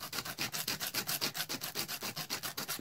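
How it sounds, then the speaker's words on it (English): Sandpaper on a block is rubbed by hand over a Roberts R707 radio case in quick, even back-and-forth strokes, about six per second, close and soft with no talking. "I'm just going to start sanding it now"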